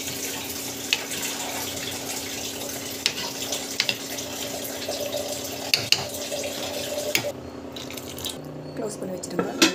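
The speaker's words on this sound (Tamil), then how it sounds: "இன்னும் கொஞ்சம் தண்ணி போட்டுக்கோங்க." Water splashes steadily into a cooking pot while a rava dish is prepared in a home kitchen, a continuous pouring stream with small drips, with a voice talking over it.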